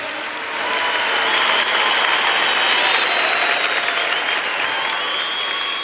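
A church congregation applauds steadily at a worship service, dense sustained clapping from a large crowd that swells in and holds at an even level with faint tonal music underneath.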